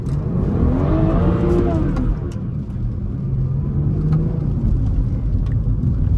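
A 500 hp BMW drifting through corners, its engine revving loudly and continuously with rising and falling pitch, close and dominant with no talk.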